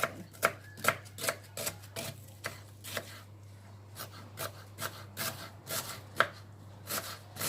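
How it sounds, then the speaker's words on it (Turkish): A knife chops steadily on a cutting board, quick irregular thuds close by as onions are cut, with no talking. "Şimdi ben soğanlarımı doğramaya başlayacağım."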